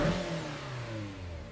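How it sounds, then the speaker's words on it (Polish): A car engine revs in the racing game JDM Japanese Drift Master at the Pira Park drag track, a loud, close growl whose pitch climbs and then settles. "Będzie fajnie, jak słychać auto, jak gada."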